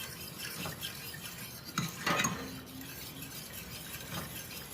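A spoon stirring flour and butter into beef broth in a pot, soft scraping and clinking against the pot with a brief louder clatter midway, faint and close with no speech.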